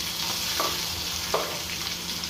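Two medium sliced onions frying in a pan, a dense continuous sizzle with two quick stirring scrapes.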